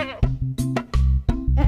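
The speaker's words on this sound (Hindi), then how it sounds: "बकरी।" A goat bleats in a few short, loud, close calls with a wavering, nasal tone, separated by brief pauses, and no talking over them.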